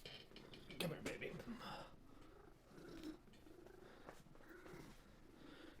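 An eight-year-old pet cat purrs close up, a continuous low rumbling that swells and eases with each breath, with faint soft voice sounds now and then.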